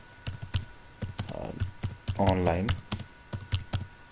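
Computer keyboard keystrokes as a search phrase is typed into an online keyword tool: crisp, irregular clicks in short bursts, heard close and partly under someone speaking.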